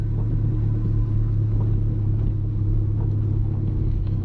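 An Audi A3 1.8T turbo rolling slowly through a street in the rain at about 20 km/h, heard as a steady, loud low engine rumble and drone from inside the car, continuous and unbroken.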